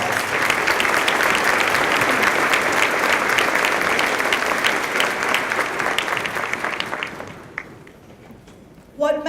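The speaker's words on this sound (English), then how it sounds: "Would you join me in giving our board a round of applause?" Sustained applause from a large audience at a 2018 college graduation ceremony, dense and steady for about seven seconds before thinning out and fading, ending with a brief sharp noise.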